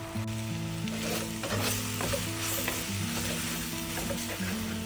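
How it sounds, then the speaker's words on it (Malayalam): Fish curry masala and coriander powder stirred in a pan, a steady close scraping and stirring with a soft sizzle underneath, continuous for several seconds with no voices. "എന്നിട്ട് എല്ലാം കൂടെ ഒന്ന് മിക്സ് ചെയ്യുക."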